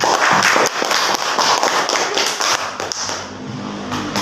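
A classroom of students applauds a classmate, a dense, steady patter of many hands clapping for about four seconds before thinning slightly toward the end.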